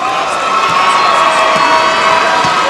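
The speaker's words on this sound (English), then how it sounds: "Terrific crowd out here at the Kohl Center." Crowd at a high school boys' basketball semifinal in the Kohl Center arena cheers loudly and continuously, a dense roar of shouts and whoops filling the hall.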